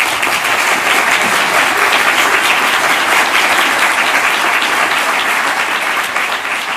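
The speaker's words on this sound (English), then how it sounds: "Let's give him a round of applause for that." Loud, dense applause from a large audience at the Our Oceans Summit, a sustained wash of clapping that stays steady for several seconds before easing slightly at the end.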